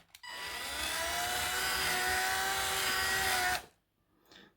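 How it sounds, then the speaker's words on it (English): A power drill spins up and bores into an old Matchbox diecast Ford Zephyr model to remove a rivet, a close, steady whine that runs for about three and a half seconds before cutting off, followed by a faint brief rustle. "so let's drill"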